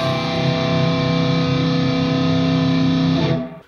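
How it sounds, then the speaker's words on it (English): A distorted electric guitar in a metal style rings out a sustained power chord built on the sixth, thick and loud, held for about three seconds before it cuts off abruptly. "we're gonna start out playing the sixth note. So it's gonna sound like this."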